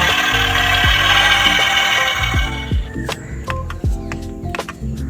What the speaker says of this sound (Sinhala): මේ යාළුවනේ එන්ජින් එක ස්ටාර්ට් වෙන සද්දේ